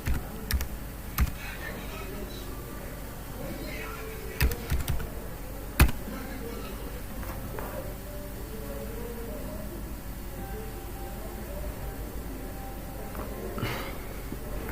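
Card number typed on a computer keyboard: scattered bursts of close key clicks with a few sharper taps, against a faint steady room hum, with some quiet talk in the background.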